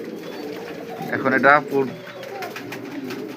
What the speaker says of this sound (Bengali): এই যে দেখতে পাচ্ছেন নর কিন্তু ডাকতেছে